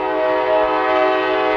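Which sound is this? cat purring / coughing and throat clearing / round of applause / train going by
train going by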